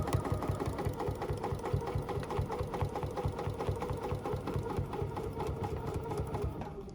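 A sewing machine stitches steadily in reverse while quilting a seam on an embroidery sampler block, with a fast, even mechanical chatter running continuously and up close, no voice over it.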